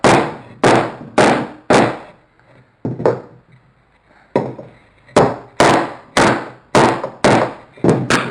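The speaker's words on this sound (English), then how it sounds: "you want to get it here and hammer it some more" Sharp hammer blows strike wood in quick bursts of three or four, with a short pause between groups, loud and close, as wooden pieces of a camera obscura kit are hammered together.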